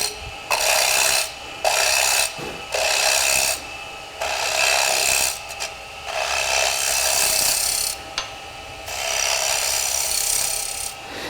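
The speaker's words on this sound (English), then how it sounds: "I'm just going to pretty much do a scraping cut" A wood lathe turning a necklace pendant takes a scraping cut, producing loud, close raspy scraping in repeated bursts of one to two seconds separated by brief pauses.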